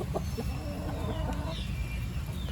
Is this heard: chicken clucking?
yes